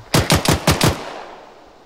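A machine gun fires a quick burst of about five loud, sharp shots in suppressing fire within the ArmA 3 military game, each crack ringing out before a fading tail of echo.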